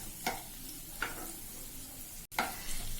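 Tomatoes fry in a pan for bread upma, a steady close sizzle broken by a few sharp stirring scrapes and clacks of a spoon against the pan.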